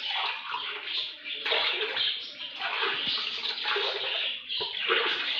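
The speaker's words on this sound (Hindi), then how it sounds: "एक देचकी में हमने 6 से 7 अदद पानी के गिलास डालेंगे" Six to seven glasses of water pour steadily into a cooking pot for Pakistani halim in several continuous streams, a close splashing gush with short breaks between pours.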